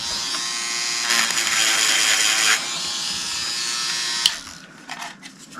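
A Proxxon PS13 power sander buzzes steadily on laser-cut wood with burnt edges, its high whine rising as it bears down in the middle and then trailing off at the end.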